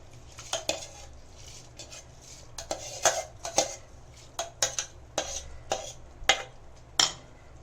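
A metal spoon scrapes and clinks against a pot in irregular strokes, close and crisp, as rice for vegetable biryani is stirred without any talking.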